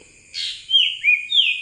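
An Asian koel sings a short run of three clear, rising whistled notes, loud and nearby, with no voices.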